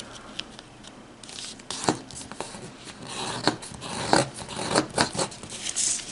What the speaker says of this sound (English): Now take this corner and fold it directly to the top.